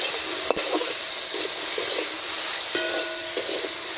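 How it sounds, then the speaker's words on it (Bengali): Long fruit being stirred and fried with potatoes, salt and turmeric powder in a pan, a steady close sizzle with scraping stirs and occasional clinks of the spoon. "মাপ মতন নুন, হলুদ গুঁড়ো, একটু নেড়ে চেড়ে ঢেকে দেব।"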